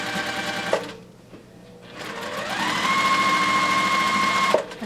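A sewing machine stitches a quilt border with a steady, close mechanical whir, pausing briefly near the start before running continuously again with an even high hum.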